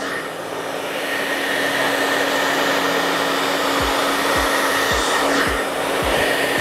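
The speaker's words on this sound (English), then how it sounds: "So as I blow dry, I have her downward." Handheld hair dryer blowing steadily and loud at close range while hair is smoothed downward during a styling session, a continuous airy whine with a few low thumps of handling near the end.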